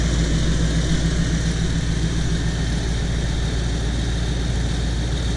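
A Chevy C10 pickup engine with new spark plug wires runs smoothly and steadily at idle, a loud continuous drone with a low hum and no audible misfire throughout.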